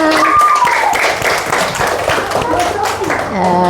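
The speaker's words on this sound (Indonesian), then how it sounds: "Tepuk tangan buat kita semua." A classroom of students claps together after a geometry lesson on sides and angles, the patter of many hands running steadily and close, with voices and chatter mixed in throughout.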